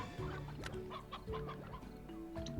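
Video-game chickens in Slime Rancher clucking repeatedly in quick, overlapping bursts, faint and steady throughout with no talking.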